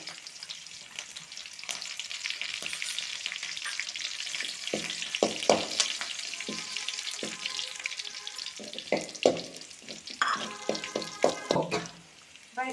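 Curry leaves crackle and sizzle in hot oil for a lemon pickle, a steady dense frying hiss with sharp pops and spits scattered throughout, close and fairly loud, with no voices.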